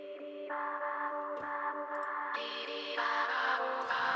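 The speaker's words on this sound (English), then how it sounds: "Alchemy is just this awesome synth they have there. It sounds like this." A sustained, vocal-like synth pad from an Alchemy patch in Logic plays alone, with layered harmonic tones shifting between chords and brightening partway through.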